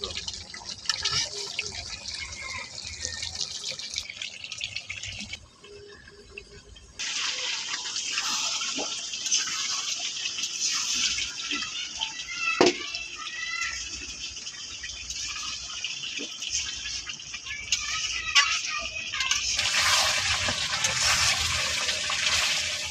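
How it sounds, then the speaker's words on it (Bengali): Water runs into a pot of sautéed meat as a steady, moderately loud trickling pour, briefly dropping out partway through and then continuing with a bright gush near the end. "এখন জলটা দিয়ে নিতেছে, মাংসটা কষানো হয়ে গেছে।"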